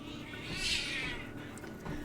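A partially deaf house cat lets out a single drawn-out, wailing scream indoors, swelling and fading within about a second against a quiet background.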